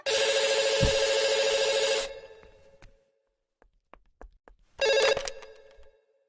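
A telephone rings loudly for about two seconds, falls silent with a few faint clicks, then starts ringing again.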